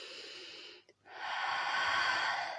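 A person breathes slowly and audibly during a gentle neck and shoulder exercise: one long airy exhale, a brief pause, then another long, steady breath, fairly close and with no talking.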